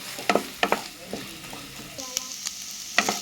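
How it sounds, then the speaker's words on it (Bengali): An egg fries in a pan with red and green chillies while being stirred, giving a steady sizzle broken by several sharp scraping clatters of the utensil against the pan. "এখন আমি ডিমটা ভেজে নেব"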